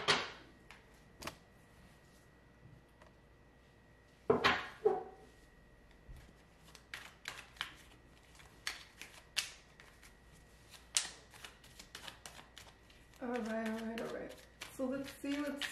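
Tarot cards being shuffled by hand at close range, soft riffling bursts and taps scattered across the stretch, with a quiet room between and a voice speaking briefly near the end.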